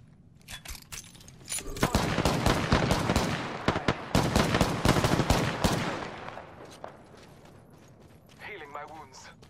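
Rapid gunfire in Apex Legends, dense bursts of close, loud shots over several seconds that then stop, with a voice speaking near the end.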